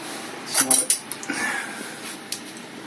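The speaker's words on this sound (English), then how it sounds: "I'm going to give this a stir" Meaty macaroni cheese stirred in a pan: a cluster of bright clinks and scrapes from utensil against metal, then a few lighter taps, close by, with a voice speaking under it.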